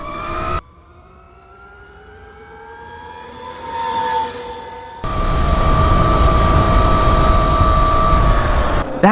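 A cheap electric dirt bike in race mode at highest power makes a top speed run, its rising whine climbing in pitch and getting louder, then shifting into a steady loud roar of motor and wind noise.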